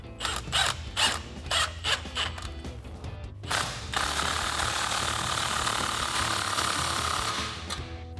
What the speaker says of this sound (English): take a 15mm socket to tighten it down